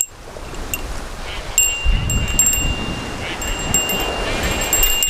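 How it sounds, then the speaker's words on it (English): Steady wind gusting across a Hawaiian surf-fishing beach, a broad rushing roar buffeting the microphone and building slightly after the first seconds, with faint high metallic tinkles riding above it. "Got a little bit more wind coming now."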